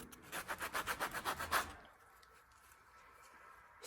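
A sanding block rubs rapidly back and forth over model railroad track work, about a dozen quick close strokes, then stops and leaves quiet room tone.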